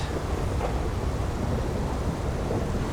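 Rain and stormy Halloween weather in GTA 5 during a car race roll on as a continuous low rumble and wash, steady and fairly loud, with no voices heard.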